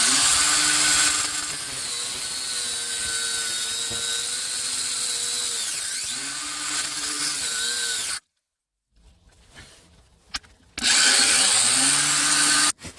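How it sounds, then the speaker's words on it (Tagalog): A power tool cuts a nut in half during blower damper bolt repair on a 2005 Volkswagen Golf, giving a loud, sustained high whine for about eight seconds, then a short quiet gap before it whines again. "So we cut the nut into half, so we can put it in the secondary side."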